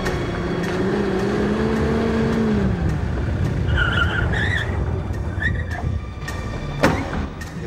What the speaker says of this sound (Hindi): राजेश की कार